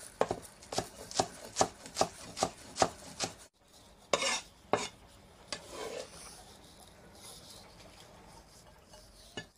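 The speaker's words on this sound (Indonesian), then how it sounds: "potong daun bawang" A knife chops spring onions on a board in a quick, even run of about a dozen sharp, close knocks, then a pause and a few scattered cuts with soft scraping.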